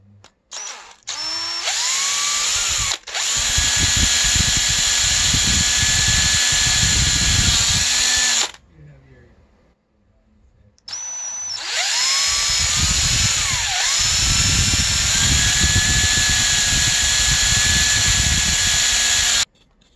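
A loud, high-pitched power drill whirs in two long bursts with a brief quiet gap between, close up and alone.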